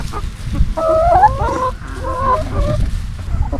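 Backyard chickens, including gold-laced Wyandotte and Rhode Island Red hens, kept in a coop built from an old livestock trailer, give a couple of close, loud honking squawks and clucks over low rumbling background noise.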